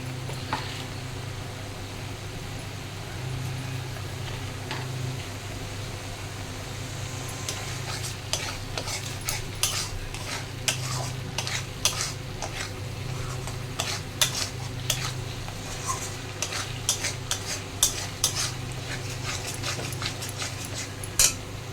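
Ginger garlic paste fries in oil with spice masala for rohu fish curry, a steady low sizzle under it, then frequent scraping strokes of a spoon against the pan grow denser and louder partway through.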